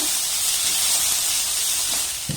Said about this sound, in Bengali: আবার সমস্ত উপকরণ একটু নাড়াচাড়া করে ভেজে নেব